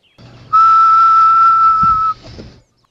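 A single person whistles one steady, clear, sustained note for about a second and a half, loud and close, with a soft low hum underneath and no talking.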